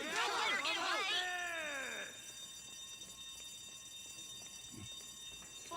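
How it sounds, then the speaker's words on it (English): An alarm tripped in the Warhammer 40K Darktide video game gives loud, rising and falling warbling siren tones for about two seconds, then fades into a low droning hum with faint background noise and no talk. "Yeah, I tripped an alarm."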